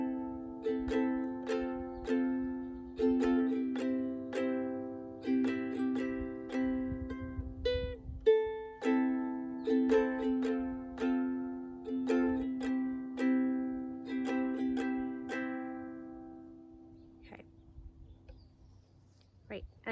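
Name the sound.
ukulele playing chord progression moving to F then C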